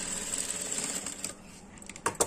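A sewing machine stitching a belt pocket on a blouse, its fast mechanical whir running steadily at close range, then slowing and pausing with a few clicks near the end.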